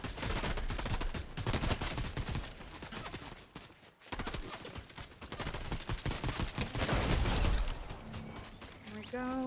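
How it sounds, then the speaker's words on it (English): Gunfire in a video game firefight, including a shotgun, sounds as a dense run of sharp, loud reports and rapid shots that carries almost without break, with a player talking over it. "Oh, that's a shotgun, you know."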